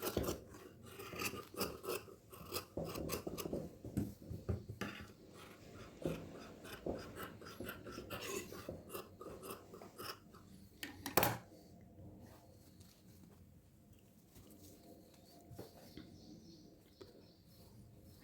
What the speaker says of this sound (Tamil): கரெக்டாக ஒரு 1/4 இன்ச்சு மட்டும் நீங்கள் கிளாத் விட்டு மற்ற கிளாத்தெல்லாம் கட் பண்ணி எடுத்துடலாம்